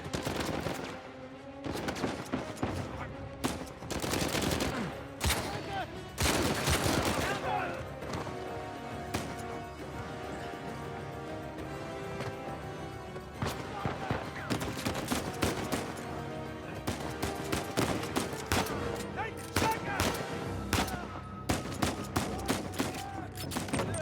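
Gunfire in the video game Uncharted 4 comes in bursts of loud, sharp shots and rapid volleys, with quieter stretches of game sound in between and no talking.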